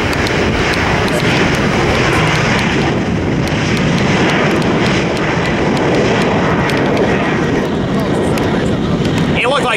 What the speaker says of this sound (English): It looked like a 737.